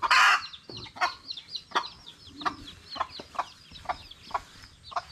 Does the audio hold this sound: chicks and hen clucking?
yes